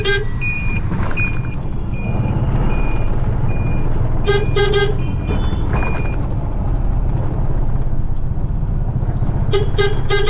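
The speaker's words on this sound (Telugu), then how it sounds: "హార్న్ చూడండి, హార్న్ వినిపిస్తా అని చెప్పా కదా, డబల్ హార్న్" Double horn fitted to a TVS Deluxe auto rickshaw, honking in short repeated bursts over a steady loud engine rumble in traffic, with a reversing-style beep pattern recurring throughout.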